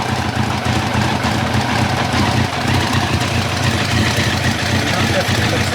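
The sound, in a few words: 1990 Kawasaki ZZR1100 motorcycle engine idling with cylinder misfiring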